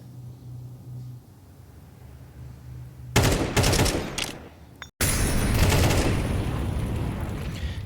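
Counter-Strike 2 gunfire during a professional esports match: after a quiet stretch, loud bursts of rapid shots break out, a brief cutoff, then a sustained close barrage of automatic fire.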